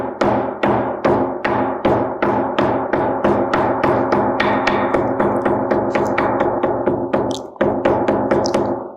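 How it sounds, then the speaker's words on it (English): A hammer strikes the inside of a brace heel strap over a triple iron, around twenty sharp, evenly spaced metallic blows in a steady rhythm with a short pause near the end, loud and close with no talk. "get your hammer, use a triple iron, then you hammer from inside"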